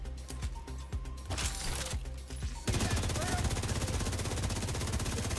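A scoped rifle fires in Division 2 as a fairly quiet, rapid train of shots that thickens into a continuous stream midway, set against a busy game soundscape.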